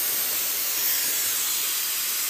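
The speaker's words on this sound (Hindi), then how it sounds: "अब हम इसे गैस निकलने तक इंतज़ार करेंगे, अपने आप ये सीटी निकलेगा इस कुकर से" A pressure cooker with cooking tuar dal releases steam in a home kitchen, a constant, even hiss sustained throughout without breaks or talking.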